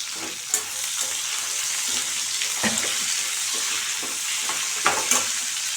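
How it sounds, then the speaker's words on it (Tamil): Small shallots fry in a pan with a constant bright sizzle, with occasional stirring scrapes and light knocks of a utensil, close and alone without talk. "நல்ல ஒரு ஐம்பது கிராம் அளவுக்கு சின்ன வெங்காயம் சேர்த்து நல்லா வதக்கி விடுங்க"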